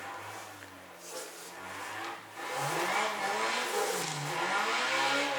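A drifting car in the racing game Assetto Corsa spins donuts with a wavering engine drone that rises and falls with throttle, revving harder after a brief dip, over continuous tire and wind noise.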